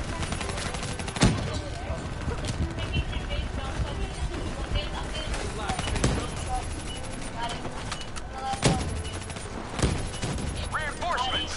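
Call of Duty Black Ops 3 gunfire crackles through a campaign battle, sharp shots and bursts recurring every few seconds over dense combat noise, with voices talking throughout.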